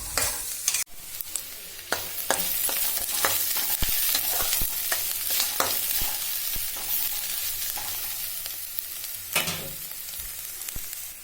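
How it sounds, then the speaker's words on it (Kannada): Onion with cinnamon, cloves and cardamom frying in oil, a close, continuous sizzle broken by repeated sharp clicks and scrapes of a spatula stirring the pan. "ಈರುಳ್ಳಿ, ಚಕ್ಕೆ, ಲವಂಗ, ಏಲಕ್ಕಿ ಹಾಕಿ ಫ್ರೈ ಮಾಡ್ಕೊತಾ ಇದ್ದೀನಿ"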